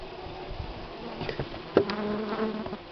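A few surviving honeybees from a dying, weakened hive buzz faintly and close by, their thin drone rising and fading over a soft background.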